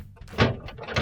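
Maytag refrigerator crisper drawer being slid in, its wheels rolling and bumping into the track with a short scraping run and a couple of soft knocks, close and alone.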